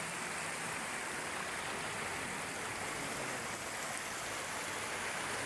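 A stream at Panibasan flows steadily, a constant broadband rush of water at even, moderate level with no voices.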